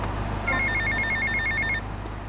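A payphone near a mall in GTA Vice City rings in a quick trilling electronic burst lasting just over a second, loud and clear over a low background hum.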